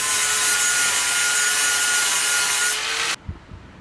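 Angle grinder fitted with a flap disc grinding a steel knife blank, a loud, steady abrasive whine with sustained rough scraping that runs continuously for about three seconds and then cuts off abruptly, leaving brief faint knocks.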